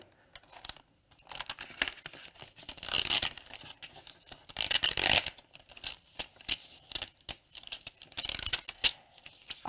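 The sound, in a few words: peeling Infusible Ink transfer sheet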